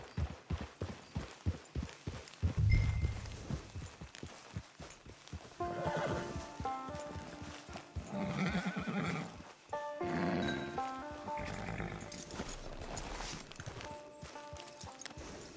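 In the video game Red Dead Online, hooves clop in a steady rhythm, then a horse lets out several loud whinnies and snorts over the ongoing footfalls.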